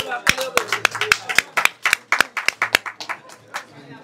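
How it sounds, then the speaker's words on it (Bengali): A small audience claps at an awards gathering, with sharp, uneven hand claps spread over a few seconds. Voices murmur underneath. "সবাই একটু হাততালি হবে প্লিজ"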